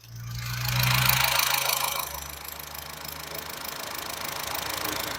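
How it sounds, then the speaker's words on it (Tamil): A Honda Amaze sedan's engine starts up and settles into a steady idle, heard close and fairly loud with a low, even hum and light mechanical rattle throughout. "நான் இப்போ உங்களுக்கு இன்ஜின் நாய்ஸுமே காமிச்சிடுறேன்."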